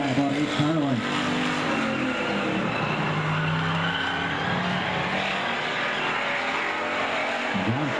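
Race car engines drone steadily on an oval track during a close battle for second place, a continuous loud roar with rising and falling pitch as cars pass, under an announcer's commentary.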